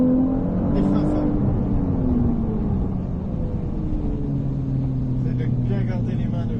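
A race car on a circuit accelerates, with the engine drone rising and falling in pitch across gear changes, loud and close inside the cockpit, then it brakes hard, while a man coaches in French over the noise.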